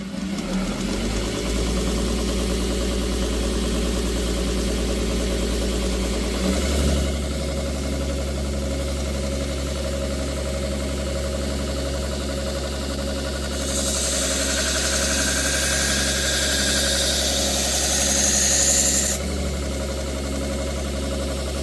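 A sharpening machine hums and whirs steadily as it runs to put an edge on a folding knife, a constant motor drone that shifts pitch partway and gains a brighter grinding hiss near the end.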